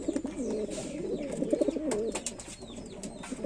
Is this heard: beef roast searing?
no